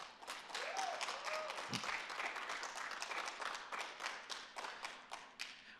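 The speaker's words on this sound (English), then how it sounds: "Let's give them all a big round of applause." Audience applause for environmental volunteers at a city State of the City address, a steady round of clapping from a hall crowd, fairly quiet and distant, with a faint whistle near the start.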